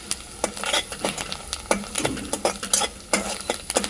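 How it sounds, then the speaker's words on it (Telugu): Onions sizzle in hot oil in a pan while a utensil stirs them, producing repeated scraping strokes over a constant crackling fry, close and clear without speech. "చూడండి, ఎంత మంచి ఉల్లిగడ్డ గోలింది."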